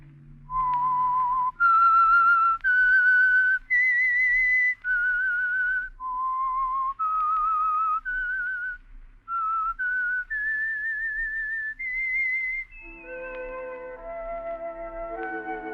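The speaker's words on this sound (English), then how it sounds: "Let that whistle be your signal for the Signal Oil program, The Whistler, each Sunday night at this same time." The whistled theme signal of the radio program The Whistler, a lone, clear melodic whistle of sustained notes in a rising and falling phrase that ends in a short orchestral chord.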